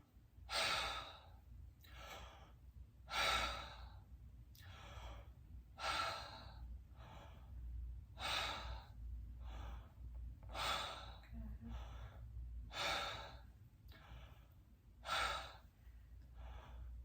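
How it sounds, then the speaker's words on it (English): A patient breathes deeply during a lung exam with a stethoscope on the back, each slow inhale and exhale repeating about every two and a half seconds, close and fairly quiet, with no talking. "Deep breath."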